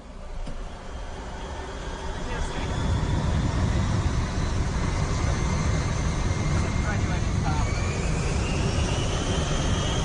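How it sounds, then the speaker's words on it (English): Airliner jet engines spooling up for takeoff in a radio drama, a broad roaring rumble that swells over the first few seconds and then holds loud and steady. "we are now cleared for takeoff"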